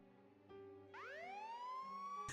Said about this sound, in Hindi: ये तो पुलिस के सायरन की आवाज लगती है